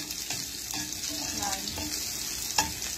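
Onions sizzle and fry in a hot pan, a steady crackling hiss with a few louder pops and stirring scrapes throughout.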